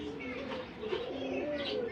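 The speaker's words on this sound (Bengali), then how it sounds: "দুটা কালদম কবুতর আছে দেখেন" A pair of Kaldom pigeons coo steadily at close range, soft repeated throaty calls overlapping for a couple of seconds with little else around them.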